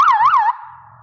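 A self-defense keychain personal safety alarm wails loudly and close, its pitch sweeping up and down twice before settling into a steady shrill tone that fades slightly.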